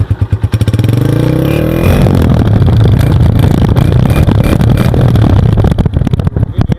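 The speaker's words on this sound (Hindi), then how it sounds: "ये सिलेंसर है, आप चेक करें, इसके साउंड भी आपको मैं चेक कराता हूँ।" A warmed-up, bone-stock Honda 125 motorcycle with its factory silencer thumps at a pulsing idle, then revs up into a loud, sustained, close-up exhaust roar before easing back toward idle.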